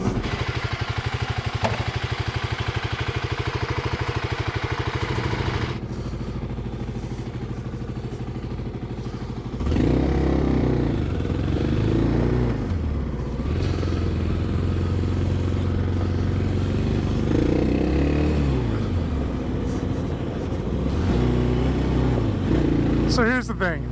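2024 Kawasaki KLX 300 dual sport motorcycle on Dunlop 605 tires pulls out and rides, its engine droning and rising through gear changes with wind noise, continuous and close.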